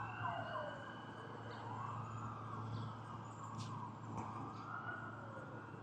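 Several police sirens wail through a downtown Los Angeles street during a protest, rising and falling continuously at a moderate distance with a steady low engine hum beneath.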